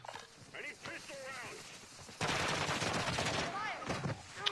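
Video game gunfire: bursts of shots crackle through an online match, growing denser and louder partway through, while players talk and chatter over the action.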